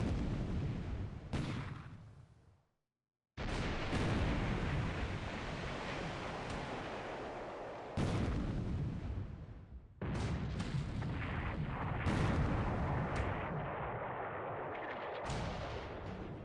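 Heavy naval shell gunfire in the World War II strategy game War in the Pacific, with Hawaii Maru under fire: dense, continuous booming and rumbling salvos filling the scene, broken by a brief silent gap and sharp bursts of renewed firing.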